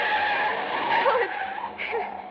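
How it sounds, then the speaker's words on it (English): A radio-drama car swerves with squealing, skidding tires, a loud sustained screech that wavers and fades over a couple of seconds. "driver swerved way across the center line, as though he were trying to run us down"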